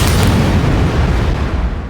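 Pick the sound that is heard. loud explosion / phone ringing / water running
loud explosion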